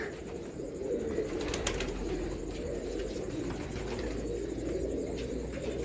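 Soft, low pigeon cooing rolls along continuously, close by, with a brief flutter partway through and a faint constant hiss behind it.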